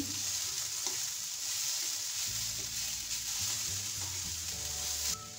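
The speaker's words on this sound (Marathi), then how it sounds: "तूप सोडूया पण याला थोडंसं परतून घेऊ" Grated carrots sautéing in ghee for gajar halwa, a steady hiss and sizzle in the pan with light stirring scrapes throughout, close and even in level.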